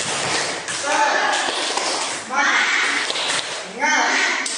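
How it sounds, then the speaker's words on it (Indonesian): A class of children clapping a rhythmic spirit-clap pattern together in a schoolroom, with bursts of claps and chanting voices repeating in groups. "Tepuk semangat."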